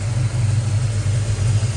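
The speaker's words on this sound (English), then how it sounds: "big block Mopar. You hear it's got a nice cam in it." A 1976 Plymouth Volare's big block Mopar engine with a performance cam, headers, Edelbrock Performer intake and Holley carburetor idles close by, a deep lumpy rumble with an uneven, loping pulse.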